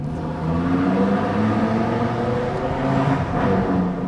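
A custom car exhaust in dynamic mode with all valves open, giving a steady, loud, deep droning rumble that holds for the whole stretch with slight swells, no voices over it.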